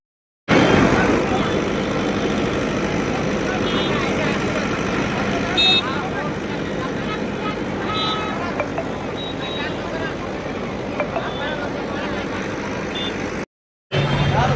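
Highway traffic jam: steady vehicle engine rumble and road noise nearby, with a person talking continuously over it.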